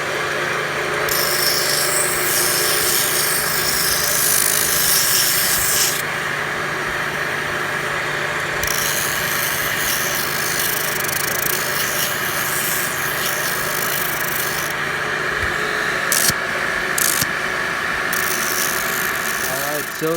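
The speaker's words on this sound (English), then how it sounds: "I want to use my sander here and just sand this down" Electric sander smoothing wooden skateboard rack pieces, a steady loud motor whine with rough abrasive rubbing running throughout, briefly dipping in intensity partway through.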